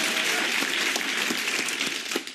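Audience applause from a studio crowd at a comedy news show, a full burst of clapping sustained throughout with a few sharper claps standing out near the end, no talk over it.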